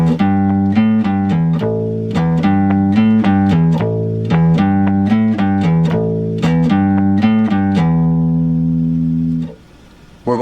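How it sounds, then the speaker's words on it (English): Bass guitar played with a pick runs through a rhythmic verse line of bouncing eighth notes that shift between several pitches, up close and clear with no talk, ending on a held note and then a brief pause. "then we'll go into the verse bass line, which sounds something like this"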